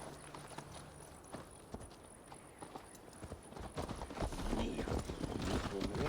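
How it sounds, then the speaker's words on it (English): Horse hooves clip-clop steadily during a ride in Assassin's Creed Valhalla, a brisk rhythmic beat under game music and ambience, with voices talking over it. "Mount up, Eivor. It's a long ride to Tamworth."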